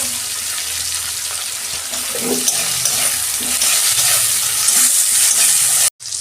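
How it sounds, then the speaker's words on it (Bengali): Onion, green chili and tomato sizzle in a hot pan, a steady bright frying hiss with occasional scraping stirs and a brief dropout near the end. "এই যে পেঁয়াজ দিয়ে দিচ্ছি। পেঁয়াজটা আমি একটু ভেজে রেখেছিলাম। একটা কাঁচা লঙ্কা আর টমেটো।"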